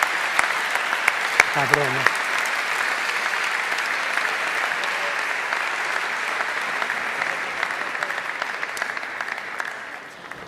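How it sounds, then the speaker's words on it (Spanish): A crowd at a national canoeing gala claps loudly and steadily for several seconds, a dense wash of applause that fades slightly at the end, with a brief spoken word near the start. "Un aplauso fuerte para los 7 primeros de los laureles."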